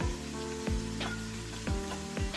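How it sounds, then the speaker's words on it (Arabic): Onions sizzle and fry steadily in a hot pan, a constant crackling hiss with a few soft clinks and knocks, no voices present. "هسه اتركها تنحمس مدة دقيقتين واضيف الدجاج"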